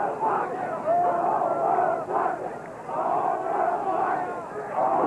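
Crowd of demonstrators in Chicago chanting in a rising and falling roar, with tear gas still lingering after police arrests; the massed voices swell in waves from the side, continuous and moderately loud.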